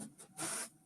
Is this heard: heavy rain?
no